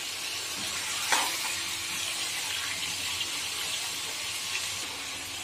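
Chicken sizzles and fries in ghee and Dalda oil in a kadahi, a constant hiss with a few soft clinks and scrapes of stirring, close and steady with no talk.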